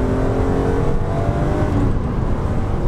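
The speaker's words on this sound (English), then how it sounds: "it is a naturally aspirated 6-cylinder engine" A naturally aspirated six-cylinder engine in a BMW Z4 M roars loudly and steadily up close, a sustained high-revving growl with no voices.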